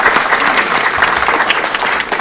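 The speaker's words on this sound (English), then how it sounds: "Another round of applause for Patrick Hillby." Loud, dense applause from an audience at a city council meeting honouring a state and national champion runner, a continuous close wash of clapping with no talk over it.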